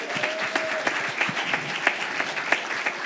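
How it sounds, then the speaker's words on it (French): An audience at a church gathering claps together in steady, dense applause, a continuous patter of many hands with sharper individual claps popping out, moderately loud and sustained for the whole stretch. "On peut applaudir."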